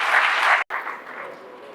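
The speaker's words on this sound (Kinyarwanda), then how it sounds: "Mwikomera amashyi menshi cyane." A film awards ceremony audience applauds the film Ndundi: dense, steady clapping fills the room, cuts out briefly for a moment, then resumes slightly softer.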